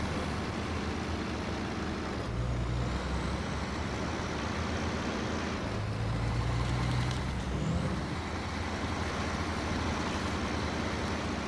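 A heavy Navistar truck engine in the game SnowRunner drones steadily, with a short air-brake-like hiss partway through and a constant low rumble underneath.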